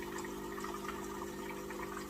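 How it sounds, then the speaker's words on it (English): A Gaggia Classic espresso machine pumps water out through its open steam wand, giving a steady, unbroken pump hum with a rushing watery hiss over it at moderate loudness. "I'm going to press the coffee button and open the wand"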